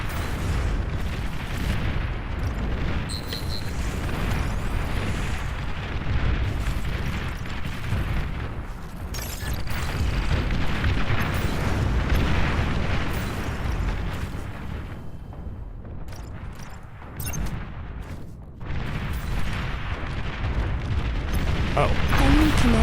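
In a Beyond All Reason match, an enemy commander is destroyed amid a dense, roaring wash of booming explosions and artillery-like blasts, loud and continuous, with a voice talking over the battle.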